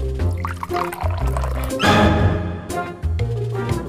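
Water poured from a container into a tarantula's water dish, a bubbling, gurgling fill in several short pours separated by pauses, close and fairly loud.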